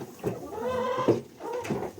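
A goat bleats in a few wavering, drawn-out calls close by, with faint shuffling in the background.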